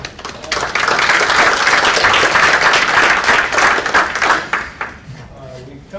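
An audience applauds a conference panel at the close of a morning session, a dense burst of clapping that holds steady for about four seconds and then thins out, with a voice coming in near the end.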